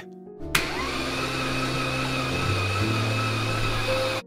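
An oil pump on an abandoned Lamborghini Murcielago under rebuild switches on with a click and runs as a steady, droning mechanical whine with an odd tonal hum, then cuts off.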